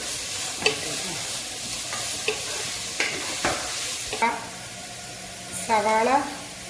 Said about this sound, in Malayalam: ഇനി നന്നായിട്ട് വഴണ്ട് വരട്ടെ. സവാള, ഇഞ്ചി, വെളുത്തുള്ളി, കറിവേപ്പില